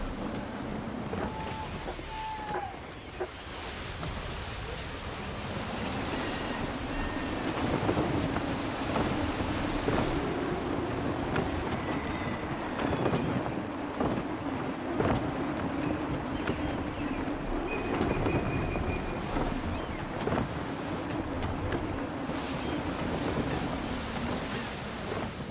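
Steady gusty wind and rushing sea water around a sailing ship in Assassin's Creed III, a continuous broad roar with swelling waves and creaking throughout, no talk.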